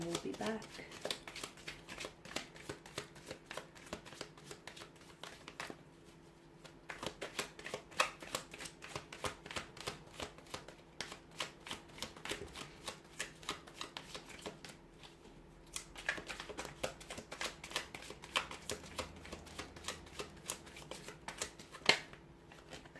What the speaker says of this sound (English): So we'll go ahead and give the cards a shuffle